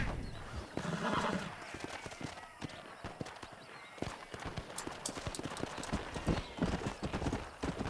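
Horse riding in the video game Red Dead Redemption: steady, rhythmic clip-clop hoofbeats at a trot, with a whinny early on and some background game sound.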